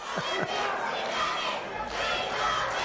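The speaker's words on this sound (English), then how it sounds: "The Olympic crowd doing their best" A large soccer crowd at a stadium grand final chants and roars continuously from a distance, a broad sustained wash of voices with a couple of brief louder calls near the start.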